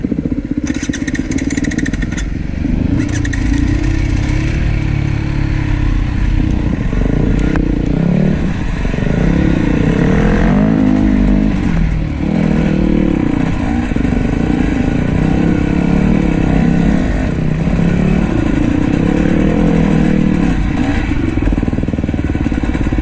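A motorcycle engine runs loud and close for the whole stretch, its pitch rising and falling as the throttle is worked, with clattering and rattling mixed into the steady drone.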